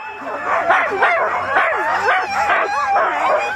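A pack of sled dogs in the cold before a race start, yipping, barking and howling in an excited overlapping chorus, loud and close throughout with no talking.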